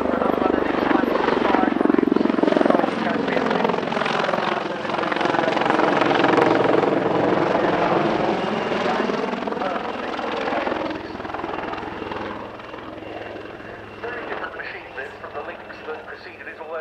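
A Wildcat helicopter flies a sprightly aerobatic display with loops and a nose-over at the RAF Cosford Air Show; a loud, continuous rotor roar and whine swell and fade steadily as it manoeuvres, with a commentator speaking over it.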